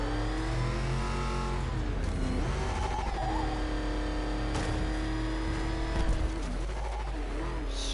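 Car engine in the video game Batman: Arkham Knight, a steady throaty engine drone with rising and falling revs, close and continuous, with brief voices and music-like tones layered over it.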